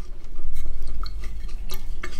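A utensil stirs and scrapes a foaming elephant toothpaste mixture in a container, giving a few light clinks and rattles over a low hum, with no talking.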